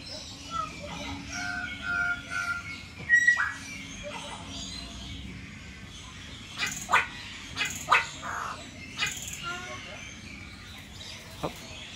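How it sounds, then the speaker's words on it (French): Assorted birds calling and chirping at Bali Bird Park, with short bursts of sharp calls clustered in the middle, over a quiet background hiss. "10 secondes pour vous faire écouter les chants des oiseaux"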